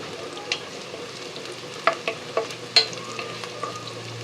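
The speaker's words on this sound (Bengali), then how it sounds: "একটু সময় নিয়ে অল্প আছে পেঁয়াজটাকে ভেজে নিচ্ছি" Onions frying in a little oil in a pan, browned for pulao topping, give a soft steady sizzle broken by a few light spatula taps and scrapes, with no voices.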